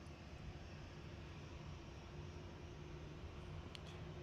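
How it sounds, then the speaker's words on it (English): A steady, faint jet engine hum from an Etihad Boeing 787-9 Dreamliner taxiing at Manchester Airport, heard from a distance as a continuous broadband rumble with no talk. "Etihad 787-9 Dreamliner is taxiing out."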